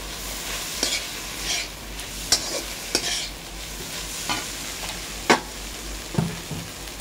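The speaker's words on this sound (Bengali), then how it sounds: "সস দিয়ে দিলাম বন্ধুরা, ভালো করে নেড়ে নিচ্ছি" Egg chowmein sauce with tomato sauce sizzles in a pan while a utensil stirs it, leaving a steady fry hiss broken by sharp scrapes and clacks, close and with no talk.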